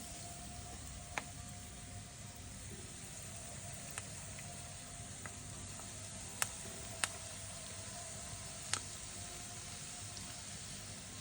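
Breaded beef cutlets fry steadily in hot oil, giving a soft, continuous sizzle at low level with a few faint clicks and pops scattered throughout.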